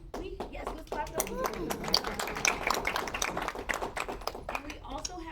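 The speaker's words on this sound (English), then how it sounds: "let's clap those." Audience at a Rotary club event claps steadily for several seconds, a dense patter of close and distant hands mixed with a few cheers and voices in the room.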